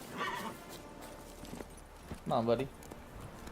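Roach, a horse in The Witcher 3, snorts and whinnies twice, close by and clear, with faint hoof clops between. Someone speaks briefly over the first whinny.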